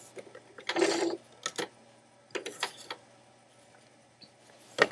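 Sewing machine stitching a shirring row on fabric, several short bursts of quiet mechanical whirring and clicking separated by pauses, heard close and fairly faint.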